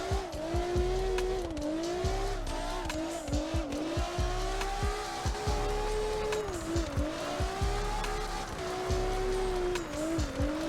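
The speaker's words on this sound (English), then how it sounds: "I'm using momentum to transition and keep on drifting." Drifting car in the video game CarX Drift Racing, its engine droning steadily with rising and falling pitch as tires squeal continuously through quick transitions between corners.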